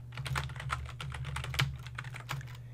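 Someone types code on a computer keyboard in a quiet room: a close, steady run of light key clicks with an uneven rhythm, plus a faint low hum underneath.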